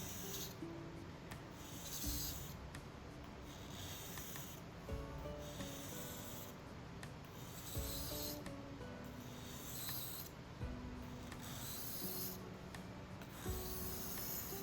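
A knife blade is drawn across a whetstone in steady, repeated strokes, each a soft gritty scraping swish, quiet and close with an even rhythm and no talking.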